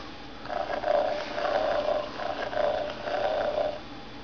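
A FurReal Friends newborn kitten toy purrs in steady rhythmic pulses, about five even swells of a soft mechanical rumble, close and alone with no talking over it.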